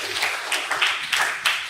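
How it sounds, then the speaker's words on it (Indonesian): A seminar audience claps briefly, a short patter of applause with a few louder clusters, moderately close and fairly steady. "Beri tepuk tangan dulu buat semuanya"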